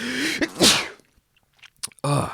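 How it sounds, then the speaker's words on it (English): A loud sneeze bursts out after a breathy build-up, followed by a brief pause and then a voice speaking. "I gotta sneeze."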